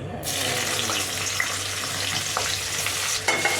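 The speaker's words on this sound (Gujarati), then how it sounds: "થોડું તેલ, હિંગ થોડીક ઉપર આવી જાય એટલે આપણે એમાં નાખી દઈશું મરચાં." Green chilies frying in hot oil with asafoetida for a masala pasta, a steady close sizzle with a low hum and a few light spoon scrapes near the end.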